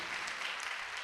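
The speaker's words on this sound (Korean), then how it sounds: "자, 우리 박수로 한번 격려하죠." A church congregation at a special dawn prayer service claps in a dense, steady burst of applause, brief and filling the room.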